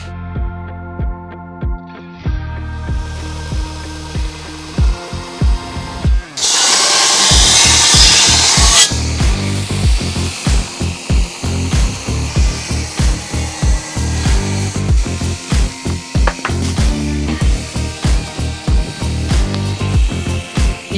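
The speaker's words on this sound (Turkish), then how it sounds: "280'lik zımparayla son keskinliğini vereceğim." A loud 280-grit power sander grinds against a metal blade, sharpening it in rhythmic passes, with a brief harsh high-pitched burst partway through. No voices.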